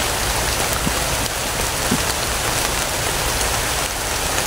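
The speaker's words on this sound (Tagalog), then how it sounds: "Ang kusog ulan. Ayan o, lumakas yung ulan." Heavy rain on a mountain pours down in a dense, loud, steady hiss of drops hitting surfaces, continuous throughout with no voices.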